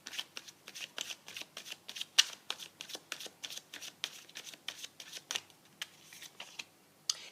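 A deck of tarot cards is shuffled by hand, close and quiet, in a steady run of short crisp riffles and slaps over about seven seconds with no talk.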